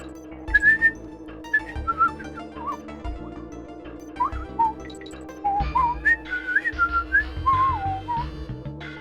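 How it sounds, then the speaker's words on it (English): A person whistles a bouncy, wandering tune in short phrases, close and clear over quiet Donkey Kong Country game music. "I'll stop whistling."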